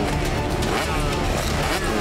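Cartoon car in an animated kids' show pulling to a stop, a brief steady engine rumble heard at moderate level for about two seconds.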